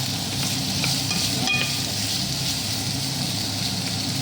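Steady, loud sizzling of shrimp frying in a pan hisses continuously, with a faint clink of a utensil partway through.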